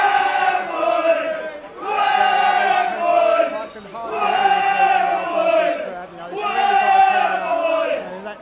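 Football supporters at a non-league match between Ware FC and Bedford Town chant in loud rhythmic waves, massed voices swelling and falling roughly every two seconds.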